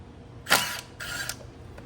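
A rusty T30 Torx star bolt being worked loose on a car during a brake kit install, two short scraping, creaking mechanical bursts close up, separated by a brief pause.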